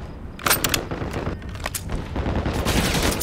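Rapid bursts of automatic gunfire in Call of Duty on Xbox, loud and close, with clusters of sharp shots and a short pause before another volley.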